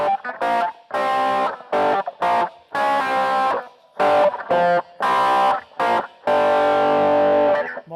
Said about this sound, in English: You need more distortion.